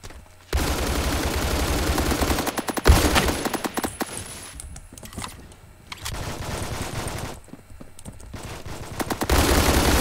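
A Scar PDW fires in the video game Phantom Forces. Loud rapid bursts of automatic gunfire are broken by short pauses, with several separate volleys over the stretch.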